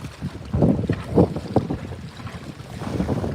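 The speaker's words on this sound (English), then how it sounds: "it's a little on the windy side, y'all." Gusty wind buffets the microphone on a reservoir, surging in low rumbling bursts and easing off, with no voices.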